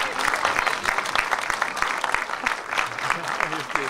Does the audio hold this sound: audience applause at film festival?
yes